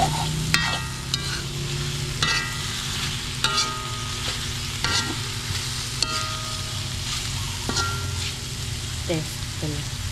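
Bitter gourd and egg sizzle in a pan while a utensil scrapes and clacks against it every second or so, a steady frying hiss running underneath the whole time.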